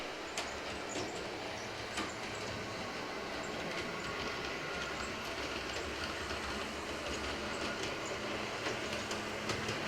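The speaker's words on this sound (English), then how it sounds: "So we're gonna watch the RDC take the crossovers." A model railroad RDC railcar rolls over track crossovers with a steady running rumble, broken by repeated sharp clicks as the wheels cross the rail joints, close and continuous, with no talking.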